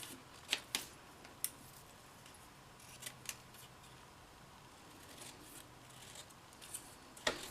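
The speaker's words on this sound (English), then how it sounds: "I'm just going to go ahead and hand cut out the Your Extraordinary" Scissors snip out a stamped paper piece for an Easter card, with a few sharp, close cuts spaced irregularly over a quiet, faint background.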